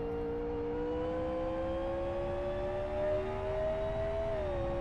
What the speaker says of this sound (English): I do like the sound of this car.